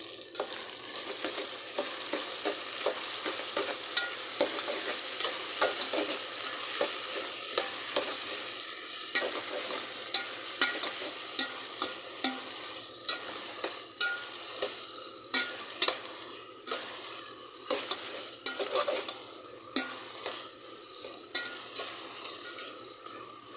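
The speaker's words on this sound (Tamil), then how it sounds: "கொஞ்சம் கிண்டி விட்டுக்கலாம்" Chicken curry is stirred in a hot pan: a steady, fairly loud frying sizzle runs throughout, dotted with frequent sharp clicks and scrapes from the stirring utensil, and no voices.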